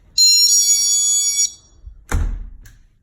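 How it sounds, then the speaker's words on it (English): A GE magnetic window and door alarm gives a loud, bright electronic chime lasting just over a second, then falls silent, followed by a soft click and a louder thud as the door moves. "And that's just the chime."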